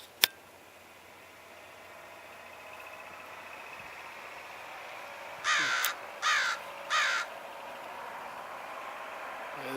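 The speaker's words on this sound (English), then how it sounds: "Hear that crow laughing at me?" A crow perched on a telephone pole gives three distinct caws in a row, fairly close, over a faint steady background hiss.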